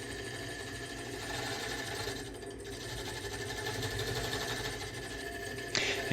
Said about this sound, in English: Here we're back with our cutter tool, just kind of feathering out that walnut surface just below the bead.